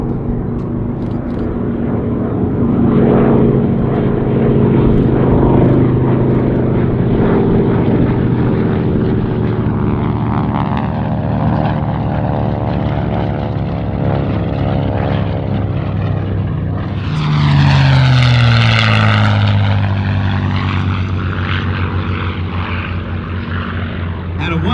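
A P-51 Mustang warbird with a laminar-flow wing flies past at the 2019 California International Airshow, its propeller engine droning loudly and steadily before a sharp Doppler swell and drop as it passes overhead.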